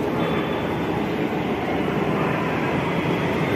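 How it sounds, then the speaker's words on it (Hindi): A Delhi metro train rumbles in loudly and steadily, a broad continuous roar of wheels and motors close by, with no talking. "देख ये आ गया मेट्रो दोस्तों"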